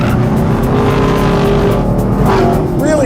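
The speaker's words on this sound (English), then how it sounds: "Love the manly V8 rumble of this Camaro V8." A Chevrolet Camaro V8 rumbles loudly and close up while cornering hard on a track. A dense, continuous engine roar carries a brief tire squeal near the end.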